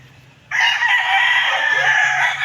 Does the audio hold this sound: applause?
no